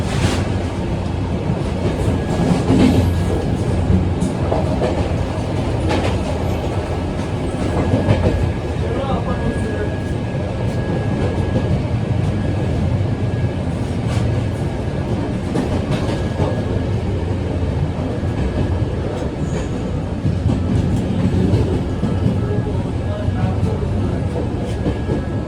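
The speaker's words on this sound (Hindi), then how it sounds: "और इसी के साथ हमारी जनशताब्दी एक्सप्रेस ने क्या शानदार एक्सेलरेशन करना शुरू" A Jan Shatabdi Express with a Vistadome glass coach rolls along the rails, giving a steady, loud rumble with clickety-clack from the wheels that holds constant throughout and surrounds the listener from inside the carriage.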